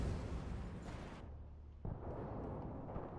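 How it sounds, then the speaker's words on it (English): A grenade detonates in Battlefield: Bad Company 2 multiplayer, a loud broadband blast that cuts off abruptly, followed by a second rumbling burst and lingering low debris noise. "Grenade!"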